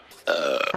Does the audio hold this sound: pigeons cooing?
no